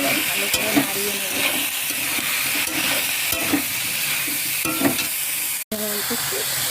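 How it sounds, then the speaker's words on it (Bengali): Cumin and coriander powder are stirred in a hot frying pan while cooking Malabar spinach in a village kitchen, with a steady close sizzle under repeated scraping strokes of the spoon. "ভালো গুঁড়োগুলো এবার ভালো করে নাড়িয়ে নেব।"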